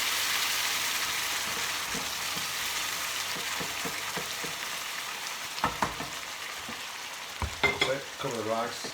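Water with rice at a vigorous boil in a stock pot for risotto, a steady bubbling hiss throughout with a few louder clanks and bursts near the end.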